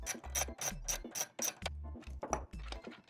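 A ratchet fitted with a tiny T10 Torx socket loosens screws inside a Ford F150 SYNC 3 screen unit, giving rapid, close mechanical clicking in two bursts separated by a short pause.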